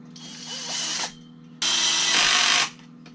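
A power drill drives a screw into a wooden stand for setting up an air rifle scope, two close, loud whirring bursts, the first about a second long and the second slightly longer, separated by a brief pause.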